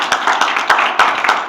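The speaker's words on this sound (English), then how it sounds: "So, once again, give a nice round of applause to Andrew Barnes." Applause from a talk audience for a video game composer, a sparse patter of hand claps with a few sharper individual claps standing out, close and steady over a short burst.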